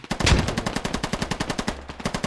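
A machine gun in a video game fires one long rapid burst of sharp, evenly spaced shots, loud and close, with no voices over it.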